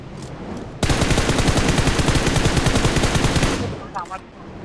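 Sustained automatic gunfire in a mobile shooting game. A rapid, loud, evenly paced burst of shots runs for about three seconds, followed by a few scattered in-game sounds.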